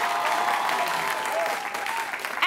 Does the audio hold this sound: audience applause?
yes